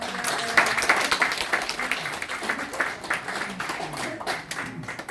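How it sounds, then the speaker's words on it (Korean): Audience applause at a business forum in a Seoul tower hall, steady dense clapping from a seated crowd welcoming someone to the stage, continuous and moderately loud throughout. "나오실 때 뜨거운 박수 부탁드리겠습니다."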